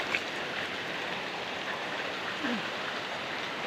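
Steady rain falls on a surface with heavy surrounding water, a dense, even hiss that holds at a constant level throughout with no talking.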